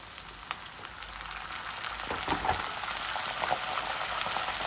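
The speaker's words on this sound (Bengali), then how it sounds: "একটু গরম পানি দিলাই" Loud sizzling and crackling builds up as hot water hits a hot pan of frying duck egg and potato curry, hissing steadily with scattered pops.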